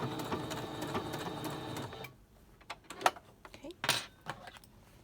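A sewing machine back stitches the pleats of a fabric mask, running in a steady mechanical whir for about two seconds before stopping, followed by scattered clicks and handling knocks.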